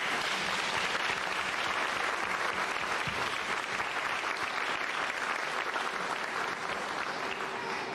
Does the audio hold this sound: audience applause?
yes